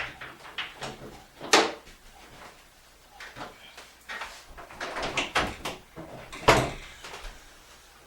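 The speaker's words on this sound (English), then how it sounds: "shut the door." A newly hung bathroom door, just fitted with hinges during a remodel, is pushed shut, giving two sharp wooden knocks several seconds apart. Softer handling clicks and rustles fill the quiet room between them.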